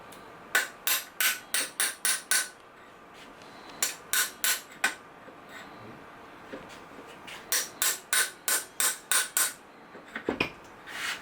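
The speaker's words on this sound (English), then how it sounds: "you may want to use the hammer to just tap it when you get it into position" Bursts of sharp, rapid hammer taps on AR-15 lower receiver parts, struck in quick clusters of four to eight blows with short pauses between, close and loud with no voices.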